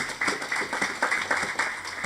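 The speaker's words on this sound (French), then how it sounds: "Applaudissez pour Dieu" A church congregation clapping together in rhythmic bursts, a steady run of claps in a reverberant hall.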